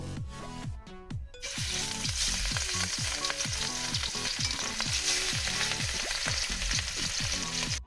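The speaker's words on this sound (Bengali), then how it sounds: "এবার আমি মাছগুলোকে প্রথমে ভেজে নেব" Pieces of fish frying in hot oil in a wok on a gas stove, a loud, steady crackling sizzle that follows a brief quieter moment and then keeps up dense popping throughout, with no voices.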